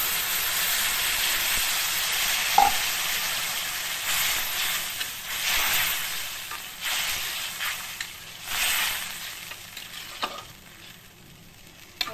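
Spice-washing water is poured into a hot pan of brinjal dish, producing a sustained loud steamy hiss and sizzle that swells and fades over several seconds, with occasional stirring knocks.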